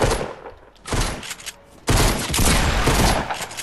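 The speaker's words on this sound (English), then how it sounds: "They were all shooting with pistols and they wanted to RPG me." Bursts of pistol gunfire in a video game, rapid overlapping shots in loud clusters separated by brief pauses, close and intense.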